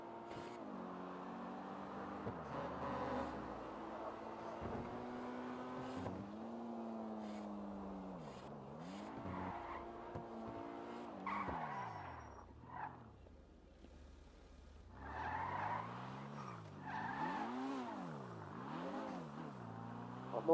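A car engine in a driving video game revs and shifts repeatedly, its pitch climbing and dropping in waves as the vehicle accelerates and slows, quiet and continuous with an occasional brief scuffing noise.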